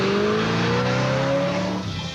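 A Ford Fairlane race car roars loudly past in competition, its engine note rising steadily in pitch over about two seconds with a hint of tire noise, then easing slightly at the end.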